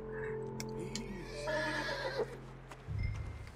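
A horse in the video game Red Dead Redemption 2 gives a loud, close whinny with a trembling, descending pitch, followed by a brief low snort or hoof thud near the end.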